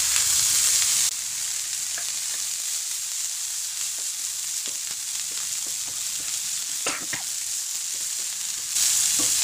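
Cauliflower bhaji sizzles and fries steadily in a pan, with occasional sharp clicks and scrapes of stirring over the continuous hiss.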